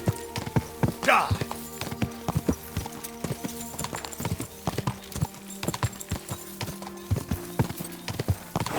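A horse gallops in Kingdom Come Deliverance II, its hoofbeats sharp, loud and close in a fast, uneven rhythm throughout, with a short neigh early on and a voice heard briefly.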